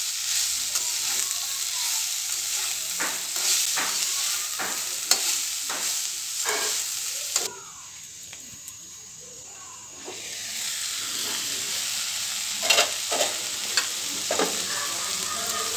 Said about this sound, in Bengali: দিয়ে এবার নাড়িয়ে টাড়িয়ে নেবো।